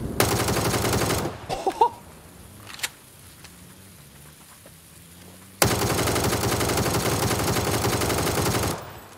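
ACE assault rifle fire from PUBG comes in two long, loud sustained automatic bursts separated by a quieter pause with faint clicks and movement.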